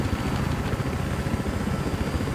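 Helicopter in the Battlefield Hardline video game flying close by, a steady low rotor thump and engine drone holding at even loudness throughout, with no speech over it.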